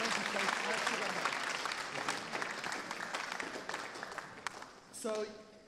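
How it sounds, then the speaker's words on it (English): Dense applause from an audience at a chapel service fills the space for about five seconds, steady and close, then tapers as a voice begins speaking at the end. "I just want to ask everybody, if you would clap it up to show Pastor Wheeland how much you're loud"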